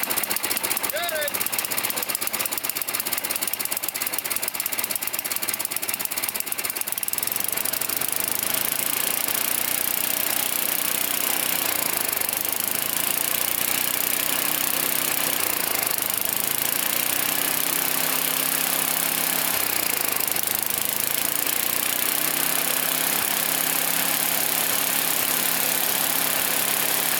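A 9 hp Tecumseh engine with an adjustable HIPA carburetor powers a snowblower and runs steadily up close, its rough chugging idle staying loud throughout and speeding up and slowing in several surges.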